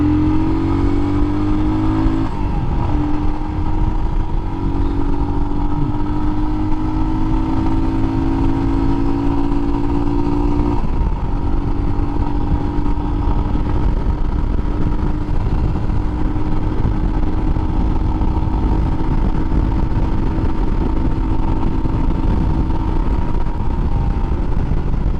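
A Royal Enfield Himalayan motorcycle on a test ride, its engine droning loud and steady throughout with pitch shifts as it accelerates through the gears, and no voices over it.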